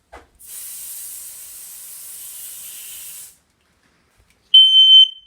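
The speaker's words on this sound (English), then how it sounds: "Smoke alarm is out in the hallway," In a house hallway, a smoke alarm is tested: a long steady hiss, then after a short silence a loud, piercing electronic beep sounds close by.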